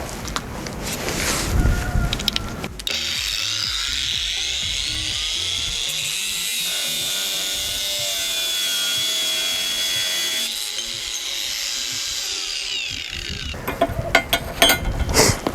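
A Procraft PWA216 brushless cordless angle grinder cuts steadily through material on a low battery, a continuous high-pitched whine lasting most of the clip, with clatter and handling noise before it starts and after it stops.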